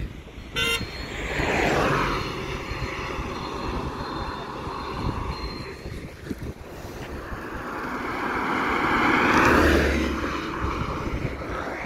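A red vehicle, likely a farm car near a small culvert bridge in a rice-farming village, runs with a steady engine drone that swells twice, loud and close, with no talk over it.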